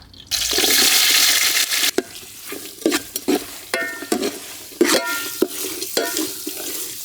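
Sliced onions hit hot oil in a pan for country chicken sukka, opening with a loud rushing sizzle, then settling into irregular stirring clatters and scrapes against the pan.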